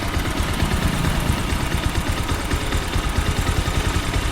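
Bajaj Avenger motorcycle engine held at a slow, low rev, a steady close-up chugging drone with a fast, even pulse and no talking, from a bike suffering jerking and misfiring from its carburettor piston slide.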